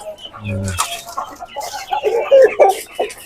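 A KUB chicken clucks and calls near the microphone while someone talks over it, the clucks brief and repeated through the moment.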